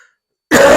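A single sharp, loud throat-clearing cough bursts in abruptly after half a second of silence, close to the microphone, from a speaker lecturing in a cold setting.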